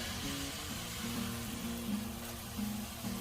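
Leftover French toast egg mixture with sugar and cinnamon cooks on a Blackstone griddle, giving a soft, steady sizzle with faint tonal hums running underneath.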